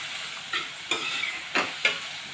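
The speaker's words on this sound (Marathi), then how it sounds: "आता हे व्यवस्थित आपण परतून घेत आहोत" Chopped onion fries with salt in a pan, a steady soft sizzle broken by four or five scraping stirs of a spatula, close and without speech.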